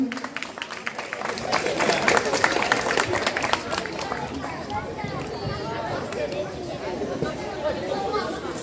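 Applause and crowd noise fill the hall at a karate championship prize ceremony in Narayanganj, a steady wash of clapping mixed with chatter that swells after the first second and holds for the whole stretch.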